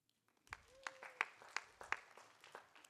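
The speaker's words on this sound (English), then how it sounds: "You should give yourselves a round of applause." A sparse, quiet round of clapping comes from an audience at a San Jose downtown public safety town hall, with scattered individual claps rising briefly and then thinning out.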